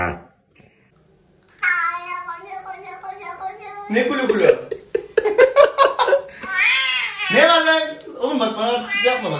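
A cat meows and yowls repeatedly, loud and close, in long drawn-out wails with brief pauses between them.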